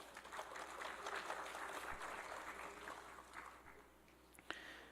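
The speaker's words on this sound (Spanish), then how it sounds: "Aplauso, por favor." Faint audience applause at an artificial intelligence symposium, a soft steady patter of clapping from a distance that thins out toward the end, with one sharper knock near the close.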